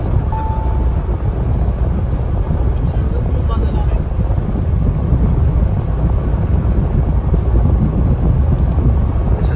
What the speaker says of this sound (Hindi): लो भाई, बारिश भी स्टार्ट हो गई